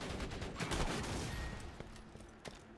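Rapid assault rifle fire in Borderlands 2, a dense continuous burst of gunshots filling the whole stretch, loud and alone with no talk.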